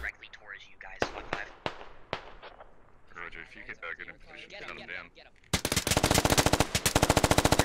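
US forces open up in a military squad-tactics shooter game: scattered shots and voices first, then a loud, sustained, rapid burst of automatic gunfire rattling without pause.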